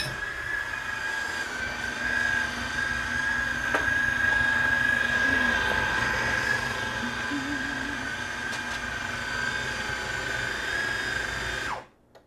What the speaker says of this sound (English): Let's give that motor a workout.